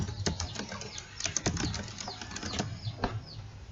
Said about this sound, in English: So let's type the purpose,